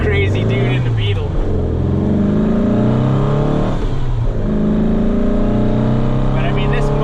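A 1961 VW Beetle engine on a 65 pan revs hard under acceleration, a loud close air-cooled drone with rising and falling pitch sweeps across gear changes, and a person talks over it.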